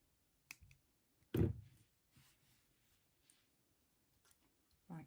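Wire cutters snip off the tail of the middle wire on a handmade gemstone wire bead ring, giving a sharp click near 1.3 s, with a few fainter clicks and handling sounds before and after in an otherwise quiet room.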